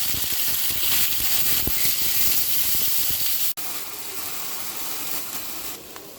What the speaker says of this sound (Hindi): चिकन को हम 3 से 4 मिनट जो है इसका फ्राई करेंगे, कलर चेंज होने तक